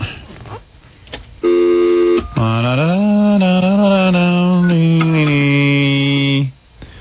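A telephone call goes unanswered: a short dialing tone is followed by a loud, steady electronic tone that holds for about five seconds and then cuts off, with faint background sound before it.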